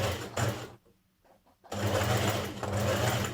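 A sewing machine stitches a dress seam in a close, rapid buzzing run, stops briefly with a few quiet clicks, then resumes a steady whirring stitch.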